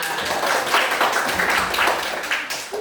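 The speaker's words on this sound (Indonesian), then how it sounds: "tepuk tangan" Students in a classroom clap together in a steady burst of dense applause, close and fairly loud, lasting a few seconds without talk.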